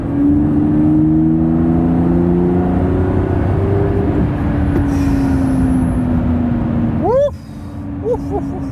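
A Lamborghini Revuelto's engine drones loud and near in a sustained, steady tone that sags slightly in pitch, ending with a few short squealing chirps.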